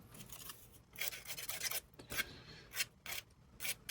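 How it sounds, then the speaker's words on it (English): Hand sanding of a small chipped piece from a booknook miniature kit, a series of soft, close scraping rubs in an uneven back-and-forth rhythm, faint and alone. "Give it a little bit of a sand"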